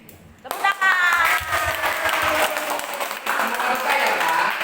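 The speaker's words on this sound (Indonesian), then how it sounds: "Tepuk tangan." Audience applause at a Sunday morning gathering, bursting in suddenly after a quiet half second and continuing as a broad, steady clatter of clapping with a voice and other sounds mixed in.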